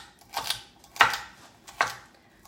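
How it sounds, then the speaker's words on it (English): Three sharp knife chops through carrots and celery land on a cutting board, evenly spaced and close, with near silence between them. "I'm just chopping up some carrots and celery to go into the rice"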